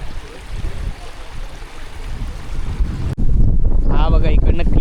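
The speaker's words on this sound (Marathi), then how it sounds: "धबधबा रिवर्स पाणी येताना." Waterfall spray blown back upward by strong wind on the Sahyadri escarpment at the Kolhapur–Ratnagiri border, heard as a steady roar of gusting wind and rushing water buffeting the microphone, with a voice talking over it near the end.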